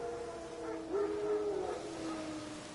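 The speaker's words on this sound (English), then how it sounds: "Wild dogs. Yes. More dangerous than wolves." Wild dogs howling in a video game, a single rising-then-falling howl carried over a steady hum of ambient game background, moderately distant and without any talk.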